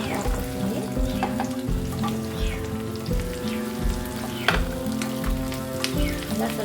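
Ridge gourd pieces fry in a pan for gojju, making a dense, crackling sizzle that is close and steady throughout, like light rain on a surface, with no talking.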